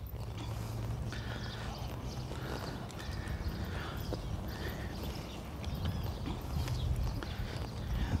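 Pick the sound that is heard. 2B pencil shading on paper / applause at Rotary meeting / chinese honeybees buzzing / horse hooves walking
horse hooves walking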